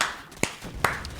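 Two sharp hand claps ring out about half a second apart, close and crisp, with no voices over them.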